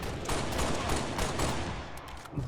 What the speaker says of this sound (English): Popping off shots just for fun of it, really.